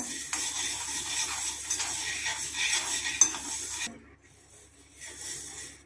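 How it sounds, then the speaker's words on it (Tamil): Black peppercorns dry roasting in a pan for rasam powder give a steady, close scratchy rattle and stirring scrape that runs loud for about four seconds, then drops to a fainter, patchy rustle. "அடுத்து மிளகு போட்டு வறுத்து எடுத்துக்கலாங்க"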